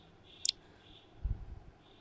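A computer mouse gives a single sharp, faint left click in a quiet room, followed about a second later by a soft, dull knock.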